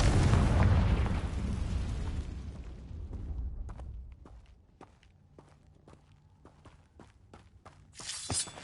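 A Confringo fire spell explodes in the wizarding game Hogwarts Legacy, a loud close blast with a rumbling tail that fades over about four seconds. Quiet, evenly spaced footsteps follow, then a brief burst of noise at the end.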